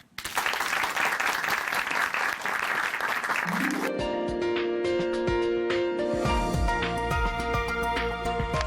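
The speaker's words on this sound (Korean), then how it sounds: "박수로 모실게요" A church audience at a Christian television program gives dense, sustained applause for about four seconds to welcome a speaker, then music takes over.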